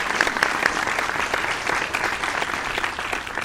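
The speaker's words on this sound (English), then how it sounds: "So let's give them a round of applause." An audience at a live show in a venue claps together in sustained, fairly even applause, with dense overlapping handclaps and no talk.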